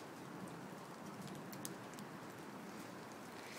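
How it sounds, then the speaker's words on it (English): Steady, dense rain pours down during a summer storm, a continuous broadband hiss of drops on surfaces with no break, fairly distant and even in level. "we're getting some pretty decent rain"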